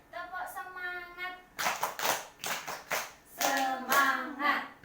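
A group of people clap along to a rhythmic clap chant at a teachers' positive-culture session, bursts of hand claps alternating with sung chanting voices, fairly close and lively.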